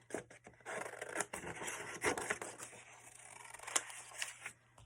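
Scissors snip through paper, cutting out small foot shapes for an Easter craft, with close, steady scratchy cuts and rustling throughout and no talking.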